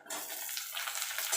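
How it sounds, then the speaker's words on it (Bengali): Tomatoes tipped into a pan of frying small onions and stirred, a brief close sizzle with soft scraping as they hit the hot oil, heard alone without talk. "পেঁয়াজ আর টমেটোটা একটু নাড়াচাড়া করে নেব।"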